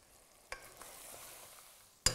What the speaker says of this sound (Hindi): धनिया जो है भून के रेडी होने वाला है।